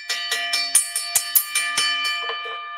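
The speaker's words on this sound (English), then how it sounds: "I don't know if your phone is ringing like a bell." A bell-like phone ring sounds as a series of bright, repeated metallic strikes, about a dozen quick rings that decay and fade over the final second, loud and alone with no talk.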